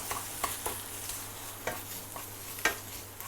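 Marinated pork tenderloin fries in a pan for jasmine fried rice, giving a steady hissing sizzle broken by occasional scraping taps of a spatula, close up and without talk.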